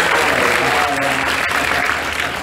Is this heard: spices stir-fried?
no